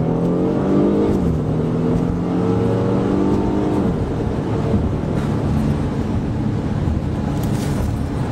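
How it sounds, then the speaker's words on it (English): A car pulls out and accelerates toward 60 mph, its engine note climbing steadily through the gears as a close, continuous drone with road noise. "we'll pull out, accelerate to 60"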